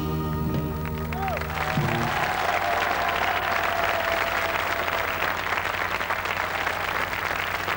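A studio audience at a French TV carnival show on New Year's Day 1987 gives loud, sustained applause that fills the whole stretch, with a few musical tones fading out at the start.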